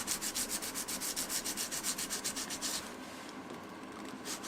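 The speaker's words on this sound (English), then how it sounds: "it's by far, I think, the easiest method to sharpen a knife by hand" Steel knife blade with a Scandi grind rubbed back and forth by hand on a sharpening surface, a close, even rhythm of about a dozen raspy strokes that stops partway, leaving quiet room tone.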